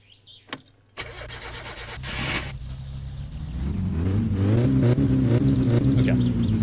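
A car engine in My Summer Car cranks, catches and settles into a steady running rumble that grows louder, preceded by a few clicks and clunks.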